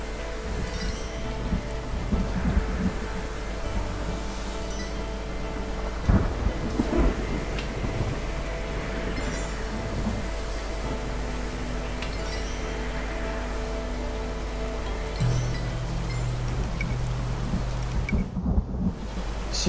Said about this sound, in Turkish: Bakın gördüğünüz gibi yağmur başladı.